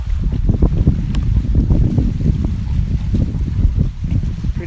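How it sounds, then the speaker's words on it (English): Wind gusts buffet the microphone beside Grand Lake on an early morning hike, a loud, continuous low rumble with irregular surges and no talking. "Probably a little bit more wind."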